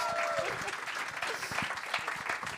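Live audience applauding a big-band-style ensemble at a concert: dense, steady clapping throughout with a faint voice near the start.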